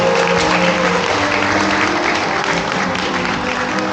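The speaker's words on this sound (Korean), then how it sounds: "여러분 박수 인사드립니다." Guests at a wedding ceremony applaud steadily and loudly for about four seconds, a dense wash of clapping from a large crowd with no break.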